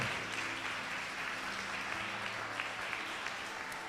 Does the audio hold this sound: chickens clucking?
no